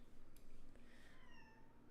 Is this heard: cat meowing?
yes